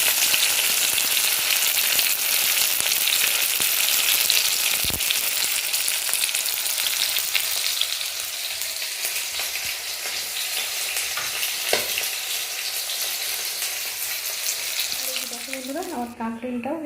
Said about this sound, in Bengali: বন্ধুরা আমার কাঁকড়িটাও এখানে ভাজা কমপ্লিট হয়ে গেছে।